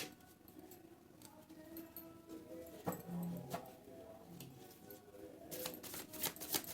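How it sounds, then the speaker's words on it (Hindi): Tarot cards being shuffled by hand, a soft papery riffling and slapping that comes in bursts, with sharper snaps near the middle and a louder flurry toward the end, close and fairly quiet. "एक शफल और कर देते हैं"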